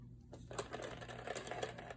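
A sewing machine stitches fabric for a headwrap bow, starting after a short pause into a rapid, even mechanical rattle of needle strokes, close and fairly quiet, with no talking.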